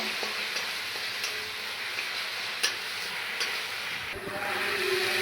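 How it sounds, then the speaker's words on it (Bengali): Spice paste with poppy seeds, nuts and ginger frying in a pan, a steady moderate sizzle and hiss with light stirring clicks, growing slightly louder near the end. "দেখুন ভালো করে মশলা ভেজে নিয়েছি"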